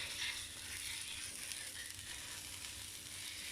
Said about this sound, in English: So to cook the doner meat, once again, we just put a bit of butter on the griddle.